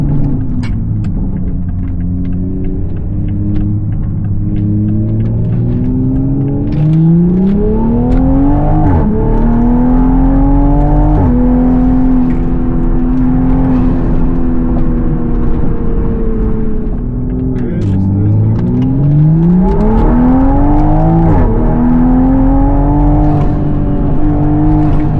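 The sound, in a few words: Toyota MK5 Supra car driving on test drive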